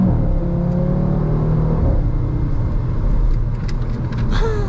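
A 2024 Audi RS3 sports car accelerates under throttle, its engine note rising steadily with a continuous whirring rumble from inside the cabin, close and fairly loud throughout.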